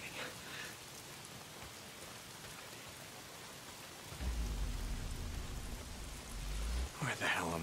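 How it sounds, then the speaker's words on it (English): Steady rain hisses across an open-world landscape in the game Days Gone, and midway a deep rolling rumble of thunder swells in and lingers before fading, with brief voice-like sounds near the end. "If it's not the freaks, it's the goddamn rain."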